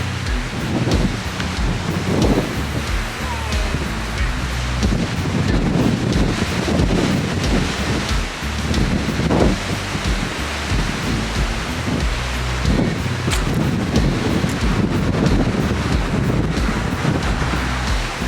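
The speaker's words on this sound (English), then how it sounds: "Oh yeah, it's definitely windy." Strong wind of about 45 mph buffets the microphone nonstop on a beach at Yarmouth during sea fishing, a loud roaring rumble with gusty surges, over what may be surf in the background.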